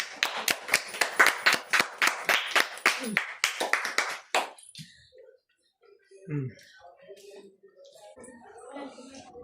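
A group claps in quick rhythmic bursts for the second winner of a chicken biryani eating challenge, then the clapping stops and voices talk quietly.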